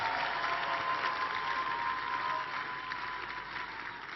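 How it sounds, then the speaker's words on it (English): A church congregation applauds for Jesus during a praise service, a dense, steady wash of many hands clapping that fills the room and eases slightly toward the end, with no talk over it. "you will clap more for Jesus"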